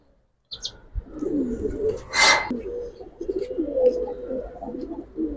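Pigeons of a jira-necked breed cooing softly in low, rolling murmurs, with a brief sharper chirp and a burst of noise partway through.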